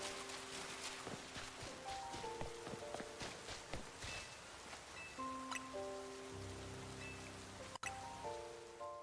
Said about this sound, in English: Oh, it just started raining too.